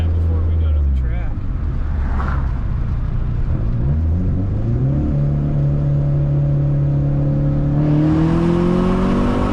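A Dodge SRT4 accelerates hard through its gears with no-lift shifts, the loud engine note climbing, dropping quickly at each shift and climbing again, heard from close by.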